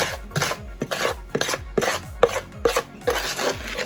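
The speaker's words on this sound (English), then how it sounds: "Solidly mix." Churro dough being mixed in a bowl, a run of rhythmic scraping and rasping strokes about twice a second, close and fairly loud, with no talk.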